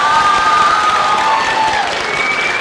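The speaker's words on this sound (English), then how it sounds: "Let's give him a big round of applause." A school concert audience at YIS breaks into loud applause mixed with cheers and whoops, a thick continuous wash of clapping with high voices rising through it.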